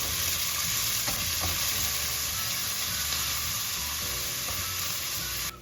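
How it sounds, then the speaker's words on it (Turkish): Chopped onion sizzling in hot olive oil, a dense steady crackle close by with occasional scrapes of a utensil stirring the pan. "Yemeklik doğranmış bir adet kuru soğan ekleyip kavuralım."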